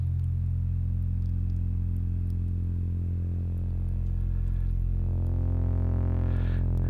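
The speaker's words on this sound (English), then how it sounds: "you hear this growling sound." A-121-2 VCF filter on a modular synth with its bandpass output fed back into the input, producing a loud, steady low droning growl that thickens and brightens with harsh buzzing overtones toward the end, alone without talk.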